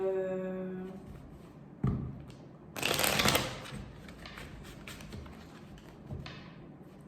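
A deck of oracle cards is shuffled by hand close up, with quiet rustles and a single crisp tap, then a loud riffling burst of about a second, followed by softer sliding and handling sounds.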